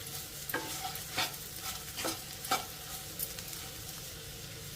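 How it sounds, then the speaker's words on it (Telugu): Potatoes coated in chili powder fry in a pan under a quiet sizzle. A spoon scrapes through them in regular strokes, roughly every second, then a louder clatter comes at the end. "మనం కారం పొడి వేసిన తర్వాత 1 నిమిషం ఫ్రై చేసుకుంటే సరిపోతుందండి"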